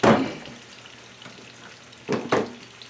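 A tablespoon of butter sizzles in a pot on medium-high heat, with a loud crackling burst at the start, a low steady fry, then two more sharp spits.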